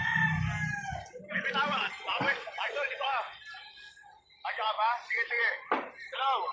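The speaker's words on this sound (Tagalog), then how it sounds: "Teka lang, may mga ibon." Rooster and chickens calling near a Filipino house, crowing and clucking in short bursts mixed with several people talking over them, close and fairly loud.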